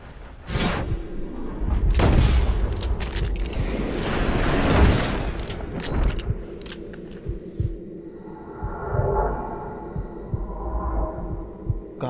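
Gunshots fired at a legendary bear in the video game Red Dead Redemption 2, with several sharp broadband bangs early on, followed by a quieter stretch of game ambience and rustling.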